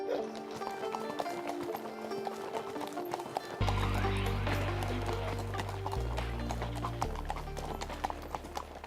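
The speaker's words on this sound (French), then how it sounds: "Alors Dolly, les balades à cheval, c'est vraiment l'atout de votre ferme équestre." Horse hooves clip-clop steadily on a ride at an equestrian farm in Martué, Florenville, a near, regular rhythm heard over a continuous musical backing with no talk.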